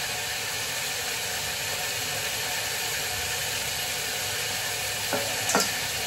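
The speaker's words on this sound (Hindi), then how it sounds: "ये थोड़े से काजू मैंने जो सोख करके रखे थे ये डाल दूँगा इसमें" A pan sizzles loudly and steadily, then two brief clinks and a stir land near the end as soaked cashews drop into the hot oil.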